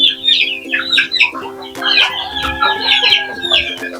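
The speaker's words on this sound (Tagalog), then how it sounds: "Ito po yung mga sisiw natin" Native chicken chicks and hens cluck and peep continuously up close, a busy overlapping chorus of short chirps and clucks over a steady background hum.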